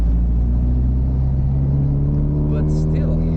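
A classic Mini car drives along a mix of tarmac and dirt road, its engine a steady low rumble heard from inside the cabin, loud and continuous.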